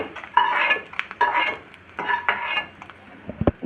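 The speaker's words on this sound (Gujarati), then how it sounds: "પહેલાં આપણે બધું ગુંદને તળી લઈશું." Edible gum (gund) frying in hot ghee in a pan, with bursts of bubbling sizzle between clinks and scrapes of a metal spoon against the pan, close and fairly loud.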